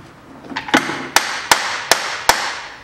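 A metal drift is hammered to knock the drive shaft out of the front wheel hub on a 2006 BMW 530i E60 4WD. About six sharp, close hammer blows land at a steady, even pace.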